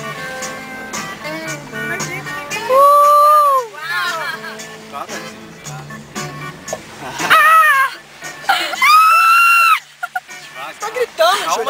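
Passengers in a car during a rally in Buzios in 2009 shriek and scream in loud high bursts, mixed with excited talking and shouting close by.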